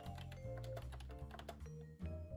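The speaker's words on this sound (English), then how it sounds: "these clips of me typing so you can hear the sound my keyboard" Typing on a computer keyboard in a small craft studio, a quick run of crisp, close clicky keystrokes in an uneven rhythm, heard alone.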